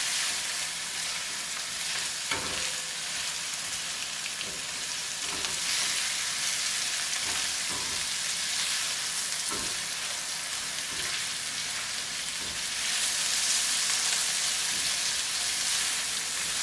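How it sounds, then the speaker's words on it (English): Apples and onions frying in a skillet, a steady bright sizzle close by with scattered stirring clicks and scrapes throughout. "I'm going to throw in the apples. And let that have some fun in there with the onions."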